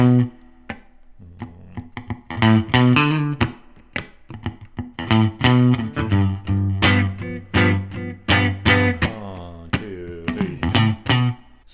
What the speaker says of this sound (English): You can hear I sometimes do some little muted notes just to keep it percussive in between.